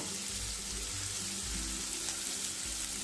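Onions frying in a pan until brown for a bitter gourd curry, a steady close sizzle with faint low stirring thumps underneath.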